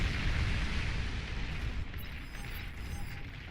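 A commander unit explodes in the strategy game Beyond All Reason with a loud, sustained rumbling blast. The boom keeps roaring for several seconds and slowly thins out, with no voices.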